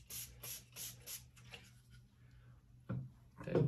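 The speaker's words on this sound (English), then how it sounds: "And so I spray it on." Four quick hissing spray bursts in a row from a trigger bottle spraying cleaner onto a bowling ball, followed by a pause and a couple of soft rubbing or handling sounds.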